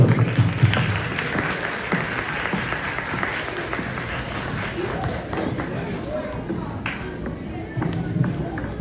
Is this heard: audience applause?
yes